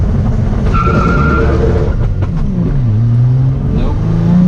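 Audi B5 S4 with a welded center diff and AWD launching off a lowered 2-step, engine loud and close as the tires break loose and chirp, the revs dropping and climbing again.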